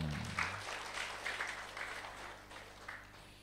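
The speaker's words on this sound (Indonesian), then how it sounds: "Tepuk tangan dulu dong." Audience at a spiritual lecture gives a brief round of applause, soft scattered clapping in a room that fades gradually, with a low voice heard briefly at the start.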